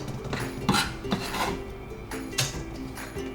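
Thinly sliced vegetables tip into a large bowl for vegetarian gyoza filling, producing a few close clinks and scrapes of utensil on bowl with soft rustling in between.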